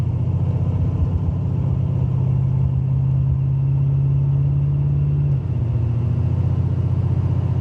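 A 1986 Buick Regal Limited with a big block engine idles roughly, a steady close low rumble with an uneven, lumpy beat that shifts slightly in tone partway through, with no talking.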